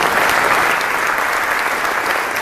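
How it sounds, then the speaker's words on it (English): An audience at a men's empowerment conference on the Cal State Dominguez Hills campus breaks into loud, dense applause, sustained and fairly close. "Give him a round of applause."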